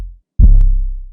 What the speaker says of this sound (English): starting with this short punchy 808 from my MPC drum kit